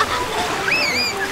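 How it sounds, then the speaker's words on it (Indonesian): Cartoon rubber raft rushing through river rapids, a steady loud wash of splashing water, with a brief rising whistle-like tone over it. "Oh, naik perahu karet."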